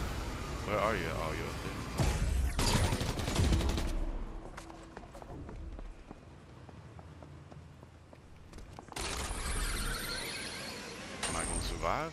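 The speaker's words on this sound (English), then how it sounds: "someone's shooting at me" Bursts of gunfire in the Fortnite battle royale game, with loud clustered shots early on and more firing near the end, broken by quieter stretches and set against game noise and a player talking.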